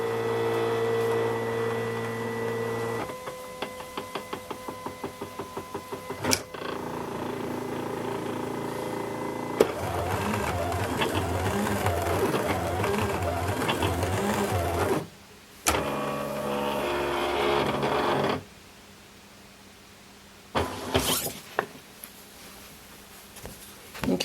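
A Silhouette Cameo cutter driving its deep cut blade through a double cut pass, alone and fairly loud: stepping motor whines and rhythmic buzzing passes shift in pitch, broken by brief pauses, clunks and carriage moves.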